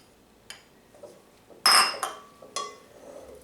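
A spoon clinks and scrapes against a bowl while butter and another brownie ingredient are mixed together, giving several sharp, close metallic taps with one louder clatter among them in quiet surroundings.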